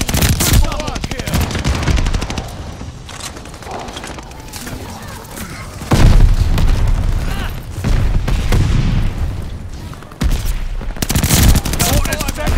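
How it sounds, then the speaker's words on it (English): Mortar shells and heavy gunfire boom through a military video game battle, loud and dense with repeated blasts and rattling shots, while players shout over the noise. "They're sending mortar shells!"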